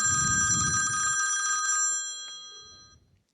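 A telephone bell rings loudly and steadily with a bright, sustained electronic tone for about two seconds, then cuts off, leaving a faint low murmur of room noise.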